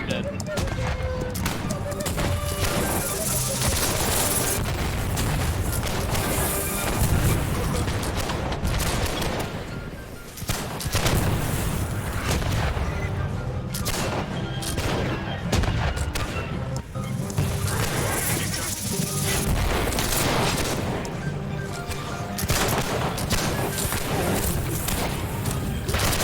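Rapid musket volleys, booming blasts and crashing impacts from a Holdfast video game battle, a dense, loud, continuous barrage over 26 seconds with a brief dip near the middle, mixed with voices and game noise.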